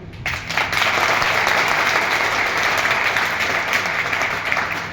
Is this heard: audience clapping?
yes